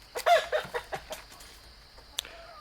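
A single chicken clucks in short bursts in a backyard coop setting, a few close, moderately loud calls followed by quieter scattered sounds and one sharp click near the end.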